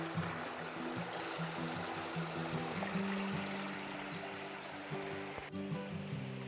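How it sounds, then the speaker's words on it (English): Wattle Creek flowing over rocks, a soft steady wash of water with a low rumbling undertone, fairly faint and continuous, with no talk. "It's a creek, all right."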